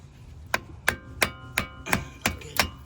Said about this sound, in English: just take a screwdriver and just gently tap it out